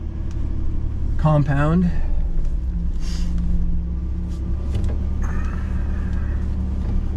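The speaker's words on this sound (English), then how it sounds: "So we'll take a little ride here." A single-owner Mercedes Fintail on a road test gives a steady, low engine rumble and road noise throughout, with someone speaking briefly over the drive.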